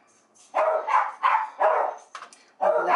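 Several dogs bark in a loud, close series of about five sharp woofs with short gaps, with no talking over them.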